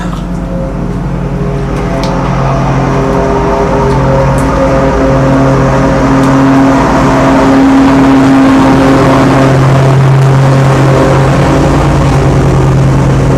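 A lawn mower engine drones steadily nearby for the whole stretch, a continuous loud motor hum with a few shifting tones and no talking.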